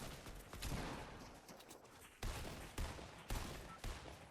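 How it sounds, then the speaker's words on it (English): The scoped assault rifle in Fortnite fires a quick series of gunshots, about five sharp cracks at a steady beat over dense game noise. "Love the scoped assault rifle."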